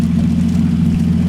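A manual-swapped Lexus IS300 engine runs nearby at a steady idle, a loud low rumble with a constant hum and no voices over it.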